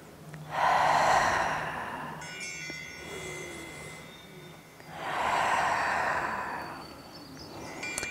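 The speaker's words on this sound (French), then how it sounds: "Vous travaillez lentement avec la respiration." Slow, deep breathing during an outdoor yoga session: two long, loud breaths a few seconds apart, each a broad airy rush, with quieter breathing and faint background between them.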